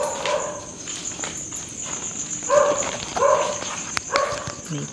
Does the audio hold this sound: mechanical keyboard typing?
no